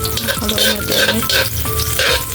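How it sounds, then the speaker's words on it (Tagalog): Food frying in a pan is stirred with a spatula, giving a loud, continuous sizzle with scraping strokes close by and no talking. "Haluin natin ulit."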